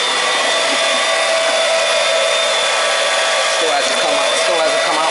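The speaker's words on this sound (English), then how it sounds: "This air's coming out." Air hissing steadily out of a hose as a heating system filled with propylene glycol antifreeze is purged, a loud, constant, close rushing sound lasting throughout.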